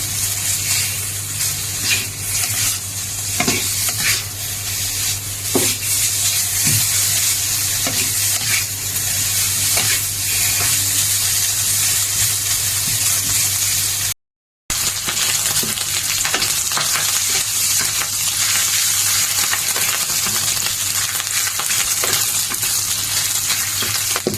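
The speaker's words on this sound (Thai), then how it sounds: "เอามันหมูลงไปเจียวก่อน" Pork fat sizzles and crackles steadily in a hot pan as it renders, with occasional scraping stirs and a brief dropout midway; no talking.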